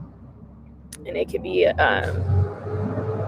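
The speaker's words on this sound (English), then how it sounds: "oh, that truck is loud" A loud truck passes outside, swelling into a broad rumbling roar for about a second beneath a person's ongoing talk.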